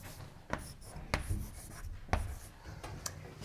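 Chalk or marker tapping and rubbing on a board during a mathematics lecture, a few sharp taps between soft scratchy strokes, faint and close, with no voices.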